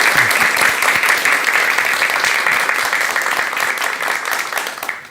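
Dense audience applause fills a hall before a talk by a psychiatrist on marriage, a steady, loud wash of many hands clapping that holds for about five seconds and tapers slightly at the end.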